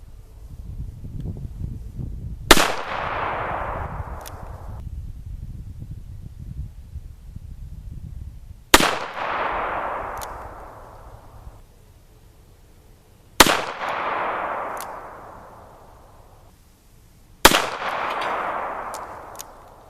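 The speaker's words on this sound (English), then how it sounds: "We're now ready to shoot the 38 Special at the center head." .38 Special rounds fired from a revolver at a target: four loud, sharp shots spaced several seconds apart outdoors, each followed by a brief ringing decay.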